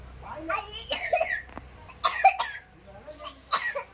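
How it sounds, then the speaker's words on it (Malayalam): A child coughs in several short bursts spread across the moment, close and fairly loud, with voices speaking in between. "അയ്യോ ചുമക്കണ്ട. ചുമച്ചാ നമ്മള് ശരിയാക്കുവേ."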